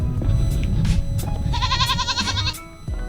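A goat on the mountaintop of Jebel Jais in the UAE gives a loud, wavering bleat of about a second, heard close over steady wind and outdoor rumble.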